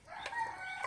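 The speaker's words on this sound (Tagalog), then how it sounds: "Kasi dito din nakaabang palagi yung mga manok natin." A chicken rooster crows near a kitchen, a single short call at moderate distance, fairly faint and alone.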